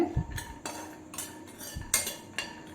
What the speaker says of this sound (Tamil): ஒரு கைப்பிடி அளவுக்கு கேஷ்நட் எடுத்துக்கோங்க அதையும் லோ ஃப்ளேமில் வச்சு வறுத்துக்கோங்க